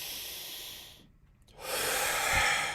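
A slow, deep inhale filling the lungs, then a short pause and a long, forceful exhale through the nose, close and breathy with no talking.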